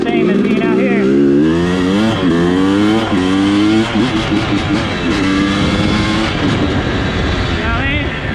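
A motorcycle with a freshly rebuilt engine revs and pulls strongly while being ridden, its rising and falling engine note loud and close throughout, with a voice talking over it.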